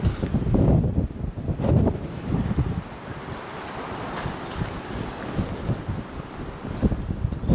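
Wind buffets the microphone on a riverside walk along the Savannah River, a steady low roar with stronger gusts near the start and no talking.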